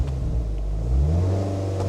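A Mazda MX-5 Mk3 NC roadster accelerates hard from a standstill on a 0-60 mph run, its engine a steady, close, loud rising drone with low rumbling harmonics climbing in pitch over two seconds.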